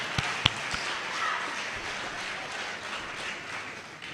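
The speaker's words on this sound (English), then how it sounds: "Another round of applause." Audience applause at an inaugural lecture in Ghana, a steady wash of clapping with a few sharper claps near the start, moderately loud and heard alone without speech.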